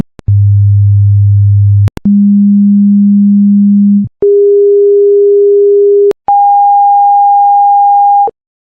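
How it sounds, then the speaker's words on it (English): Four pure test tones play in succession, each held about two seconds and stepping up in pitch from a low hum to a higher whistle, loud and clean with brief gaps between them. "Place the mouse on the frequency displays to hear the different pitches."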